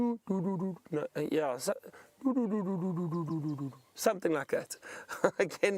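A man mimics a coucal's deep, hooting call with his voice, a run of low repeated whoops, between short bits of speech.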